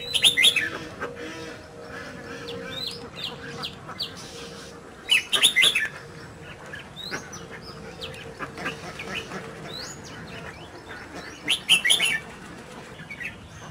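A red-whiskered bulbul sings in bursts of bright, warbling chirps, loud and close, recurring every few seconds over a low steady hum and scattered quieter calls.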